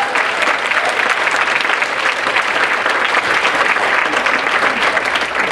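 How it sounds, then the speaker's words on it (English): An audience at a home visiting summit keynote claps loudly and steadily for several seconds, a dense, sustained round of applause close up with no voices over it. "Give him one more round of applause."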